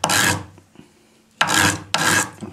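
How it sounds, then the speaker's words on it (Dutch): Rough rasping strokes of sandpaper rubbed over wood by hand, one long pass followed by two quicker ones, close and loud. "Dat schuren we netjes af."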